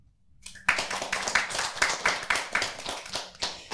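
A small audience at an underground stand-up comedy show in wartime Ukraine claps along in a sparse, rhythmic pattern of distinct hand claps, starting after a brief silence and repeating at regular intervals.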